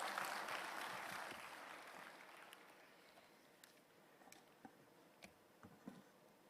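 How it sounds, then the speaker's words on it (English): A conference audience at a national inaugural session claps, loud at first, then thinning out over a few seconds into scattered individual claps and small ticks. "Let's have a huge round of applause for Dr. Jayaprakash V. Thomas."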